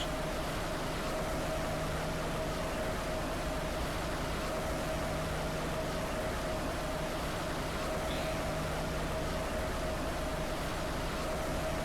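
A Laserwash 4000 automatic car wash runs continuously, a constant broad wash of machine noise with a steady hum underneath and no pauses.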